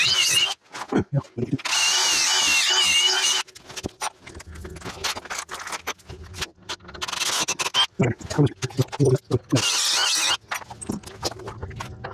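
A power drill boring holes during a closet build with drywall, heard as several loud bursts of high whining drilling, each lasting one to two seconds, close up, with clattering handling noises and bits of talk in between.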